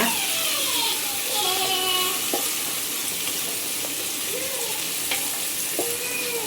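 Sliced onions sizzle and fry in ghee in a pan for jeera rice, a steady close crackling hiss with occasional stirring scrapes, alone without talk.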